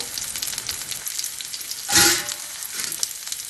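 Onions and fenugreek seeds sautéing in hot oil for a tomato gravy give a steady close sizzle, with a brief louder burst of frying near the middle, and no talking.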